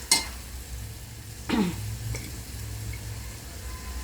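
Onion frying in a pan for tadka dal, a faint steady sizzle with a couple of sharp spatula clinks and scrapes, heard alone without talk.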